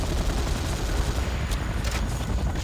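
Gunfire aimed at a target in the video game Command & Conquer: Renegade: a rapid, unbroken rattle of shots fills the whole moment with dense, harsh noise, steady and close.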